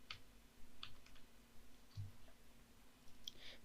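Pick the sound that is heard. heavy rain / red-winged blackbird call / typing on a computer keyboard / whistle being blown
typing on a computer keyboard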